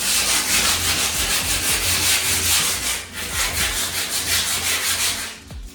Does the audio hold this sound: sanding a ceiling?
yes